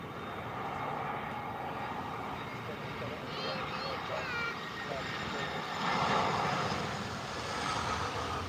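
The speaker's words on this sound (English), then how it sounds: "let you guys listen to the engines of this EasyJet A320" A steady, fairly faint broadband roar of EasyJet Airbus A320 jet engines near Bristol Airport, with a voice talking quietly over it partway through.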